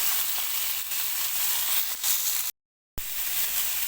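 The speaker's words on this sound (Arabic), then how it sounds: "نبتدي بقى نشوح فيها كده، نديها الصدمة بتاعتنا" Large pieces of chicken sizzle loudly in a hot pan as they are stir-fried for shish tawook, a constant crackling hiss with brief stirring scrapes and a short gap of silence.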